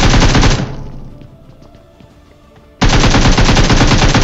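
Rapid automatic gunfire in a battle royale video game squad fight, a loud continuous burst that cuts off and decays, then resumes sharply at full volume.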